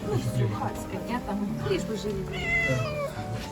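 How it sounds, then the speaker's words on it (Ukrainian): Cats meow repeatedly, close and fairly soft, their cries overlapping with people talking quietly nearby. "Ще забрали з лимана у нас двоє котиків тут."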